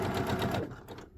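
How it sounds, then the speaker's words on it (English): A sewing machine running a short back-tack of stitches, a fast, close mechanical whirring that slows and cuts off partway through. "Now my machine automatically back tacked for me."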